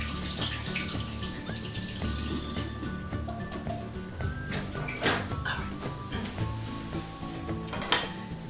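Tap water runs steadily into a kitchen sink while hands are washed during cooking prep, a continuous splashing hiss with faint clinks of dishes and a dog barking in the background.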